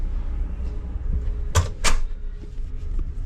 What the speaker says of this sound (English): So open the door.